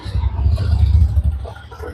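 Car traffic on a road, a steady low engine rumble with passing vehicles that builds and holds close by, then eases slightly.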